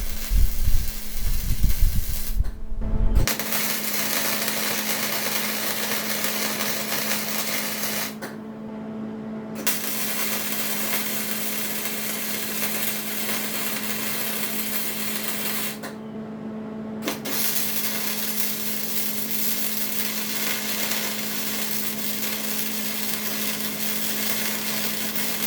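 Metal on a mud mower is welded in four long bursts of steady crackling hiss, with short quiet pauses between them. The faint sound stays close and fairly even.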